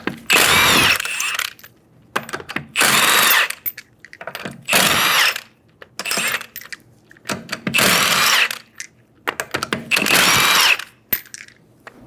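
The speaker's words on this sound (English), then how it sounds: "Using a 21mm socket, remove the 5 lug nuts." A power tool fitted with a 21mm socket spins off the lug nuts on a Hyundai Sonata wheel, five loud whirring bursts of a second or so each, separated by short pauses, close up with no talk.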